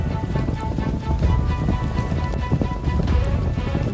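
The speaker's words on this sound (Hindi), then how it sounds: "घोड़े भागते भागते जंगल से बाहर एक खुले मैदान में आ गए।" Horses galloping out of a forest into an open field, hooves clip-clopping in a dense, steady rhythm over a busy, continuous background.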